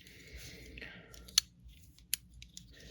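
Two crisp, separate snips of small Leatherman multitool scissors ring out sharply, close by, over quiet background noise.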